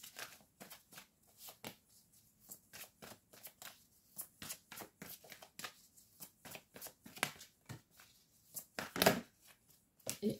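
Tarot cards being shuffled by hand, a quick series of soft riffles and slaps in uneven bursts with short pauses between them, close and quiet, with no voice.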